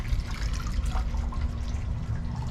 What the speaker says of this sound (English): water fountain there